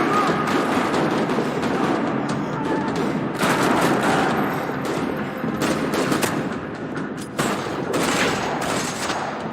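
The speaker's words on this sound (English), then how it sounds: "Another parking lot rattling with gunfire." Sustained gunfire in a parking lot shootout in the video game Max Payne 3, dense overlapping automatic bursts and shots forming a continuous loud rattle throughout.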